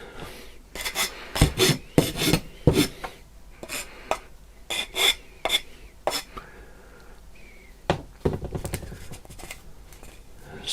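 Hand filing and smoothing of a Smaug scale model part, giving irregular bursts of dry rasping strokes with short pauses between, close and fairly quiet.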